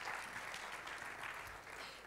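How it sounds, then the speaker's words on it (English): A hackathon audience in Grodno, Belarus applauds a team on stage, a faint but steady run of clapping that lasts the whole moment. "give a big applause to SMB Tools."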